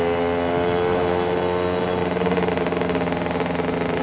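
Lambretta scooter two-stroke engine fitted with a SIP Nordspeed exhaust, revving loud and close at steady high revs, a sustained buzzing drone that rises slightly in pitch and intensity partway through.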